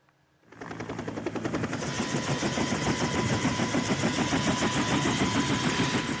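Helicopter engine spooling up at a Timika airport recovery operation in Papua, a steady loud mechanical drone with rapid rotor chop that rises from silence after half a second and holds on without any voices.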